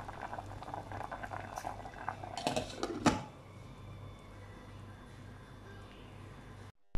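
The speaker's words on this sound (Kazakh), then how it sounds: "Бризоль дайын болғанша гарнирға картоп пісіреміз" Potatoes boiling in a pot as a side dish, a low, steady bubbling with a few brief knocks and rattles partway through, close and fairly quiet.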